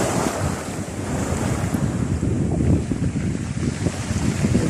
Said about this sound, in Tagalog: Medyo malakas po yung hangin eh.